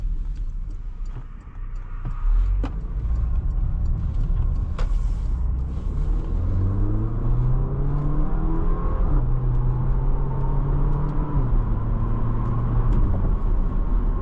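A 2022 Porsche Macan swings through a U-turn, its engine a steady low hum that rises and falls in pitch as it turns, with tire and road rumble underneath and no talking.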